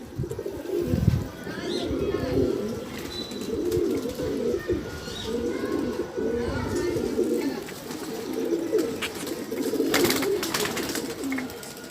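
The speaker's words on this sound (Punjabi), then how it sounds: "ਮੇਰੇ ਗ੍ਰੀਨ ਅੱਖਾਂ ਜਿਹੜੇ ਵਰਲਡ ਪੂਰੇ ਚ ਫੇਮਸ ਆ ਕਬੂਤਰ" Green-eyed pigeons cooing in a breeder's loft, a continuous chorus of low rolling coos close by, with someone speaking intermittently over the birds.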